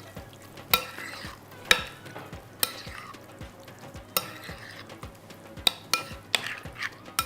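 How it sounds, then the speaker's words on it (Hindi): A spoon stirs cream into a sizzling pan, sharp metal scrapes and clinks landing every second or so over a soft continuous frying hiss, close by and without voices. "इसके बाद इसमें जाएगी क्रीम। अब इसको आपने अच्छे से मिक्स कर लेना"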